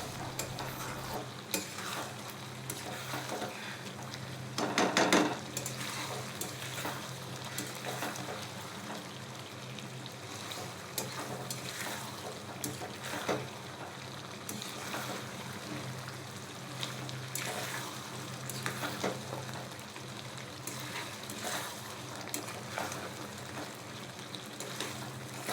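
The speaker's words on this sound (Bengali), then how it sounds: "দেখুন হালকা আঁচে এটি নাড়াচাড়া করতে করতে কতটা সুন্দর কালার এসেছে" Beef bhuna being stirred and fried on low heat, a steady soft sizzle with irregular scraping stir strokes throughout, one louder clatter early on, no speech.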